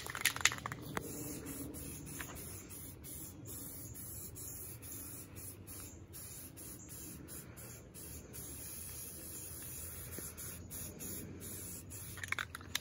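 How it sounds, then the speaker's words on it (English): Spray paint hisses steadily from a can as a granite base coat goes onto a hunting perch hung outdoors, faint and continuous with brief pauses and small clicks. "I'm gonna throw the base coat with the granite coat."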